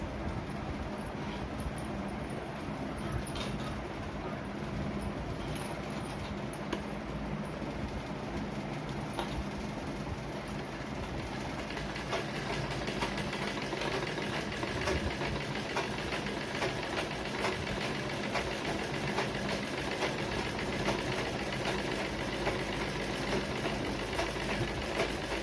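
A sewing machine runs steadily, stitching a blouse patti with a quarter-inch seam, its even mechanical whir continuing close and unbroken throughout.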